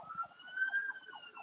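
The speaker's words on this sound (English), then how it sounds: "you could hear there's a bunch of different sirens going on right now" Several emergency vehicle sirens wail at once in the background, overlapping rising and falling tones from more than one source, moderately distant and steady throughout with no talking.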